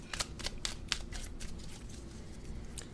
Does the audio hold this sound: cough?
no